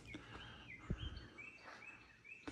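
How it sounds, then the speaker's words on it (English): Birds chirp and sing outdoors in a quiet setting, with short whistled calls repeating at a moderate distance. "It's very quiet out here. You can just hear birds."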